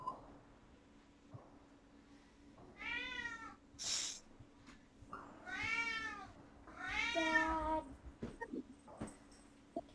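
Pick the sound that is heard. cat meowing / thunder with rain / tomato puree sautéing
cat meowing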